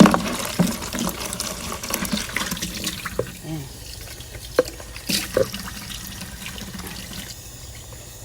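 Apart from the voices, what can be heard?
water pouring into a container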